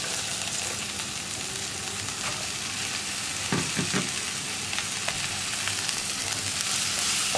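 Shredded cabbage being stirred and fried with masala in a pan for a cabbage egg stir fry: continuous crackling sizzle with a couple of distinct spatula scrapes midway, no one talking.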